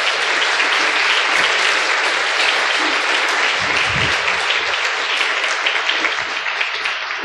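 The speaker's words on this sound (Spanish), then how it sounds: "Démosle un aplauso a estos 3." A congregation at a church service applauds three people, a loud, dense and sustained wash of clapping that fills the whole stretch, with a brief low rumble partway through.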